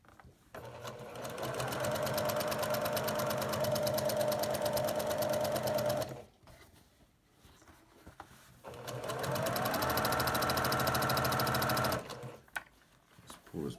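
A sewing machine stitches a quarter-inch quilt seam in two long, steady, close bursts of rapid mechanical whirring. A quiet pause with small handling clicks separates them, and a few clicks follow at the end.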